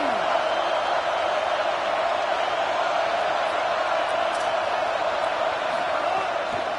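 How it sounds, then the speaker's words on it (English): Football stadium crowd at a college game between Indiana and Georgia, a dense, sustained roar of fans filling the whole stretch at a steady level, heard from a distance with faint voices mixed in. "These fans are going absolutely nuts."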